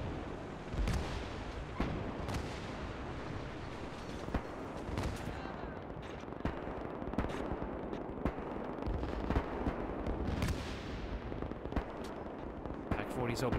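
PaK 40 anti-tank guns firing in the Gates of Hell war game, repeated heavy booming shots spread over a dense battle din of distant gunfire and explosions.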